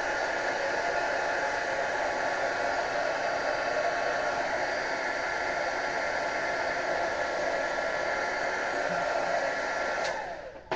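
A heat gun blows steadily and loudly over black gesso to dry it, a constant roaring hiss that holds unbroken for about ten seconds before cutting off abruptly at the end.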